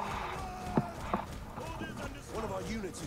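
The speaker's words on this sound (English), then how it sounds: "watch these chariots just run through their backside" Galloping chariot horses in the video game Rome 2, with faint hoof clatter and a whinny or two set in busy battle noise, while people talk over it.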